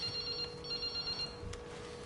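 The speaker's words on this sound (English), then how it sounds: "The ringing being your cell phone makes a lot more sense." A cell phone rings in the video game Resident Evil Requiem, with a steady electronic tone that holds through a short stretch under faint background ambience, with no talk.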